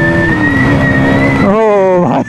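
A 2024 KTM Duke 200 motorcycle engine revving loud and steady, then dropping pitch sharply as it shifts down a gear, close to the listener with a brief rev at the end.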